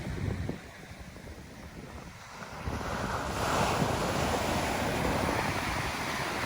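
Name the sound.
ocean waves breaking on a beach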